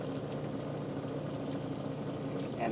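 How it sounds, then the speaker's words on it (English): Balsamic vinegar is poured into sausage and peppers cooking in a pan over a camp stove in an off-grid truck camper, giving a steady, soft liquid hiss and bubbling, close and constant. "Now we're going to put some balsamic vinegar in it."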